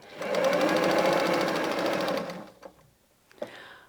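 A sewing machine runs in one steady, close, loud burst of stitching along seams joining a patchwork fabric strip, ending with a brief backtack, then a couple of faint handling clicks follow.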